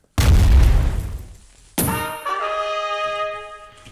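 A grenade blast in the Minetest capture-the-flag game: a loud, close, deep boom that fades, followed by a second sharp explosion with a ringing metallic tail.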